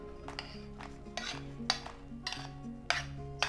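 A spoon repeatedly scrapes and clinks against a bowl while rice is scooped in for a mango chicken and rice bowl, with several soft taps and a faint low kitchen hum beneath.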